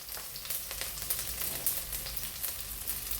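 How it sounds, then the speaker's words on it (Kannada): Garlic fries in hot coconut oil on a high flame in a home kitchen, a steady soft crackling sizzle with small popping bursts, fairly quiet and with no talk over it. "ಬೆಳ್ಳುಳ್ಳಿ ಹಸಿ ವಾಸನೆ ಹೋಗೋ ತನಕ ಇದನ್ನು ಫ್ರೈ ಮಾಡಬೇಕು"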